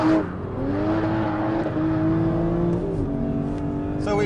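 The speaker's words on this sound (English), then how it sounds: "we've got a lot of power from this massive V12 engine" A 2014 Aston Martin V12 Vantage S's big V12 engine holds a loud, smooth, droning note, its pitch climbing and easing slightly as the throttle shifts, heard close and continuous.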